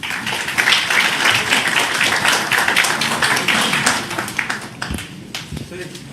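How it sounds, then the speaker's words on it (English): Dense applause from an audience, a steady wash of many hands clapping that thins out and fades toward the end. "Let's give a big applause to this forum."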